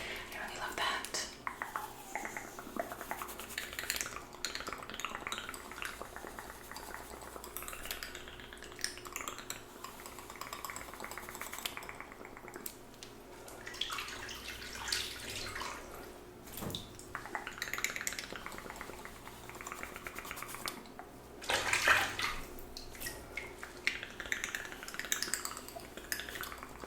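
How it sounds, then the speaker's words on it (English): A razor swished around in water while shaving legs, with soft wet sloshing and light clinks close up, continuing at a quiet level and joined now and then by whispering. "when people take the razor and put it in the water like this and swish it around"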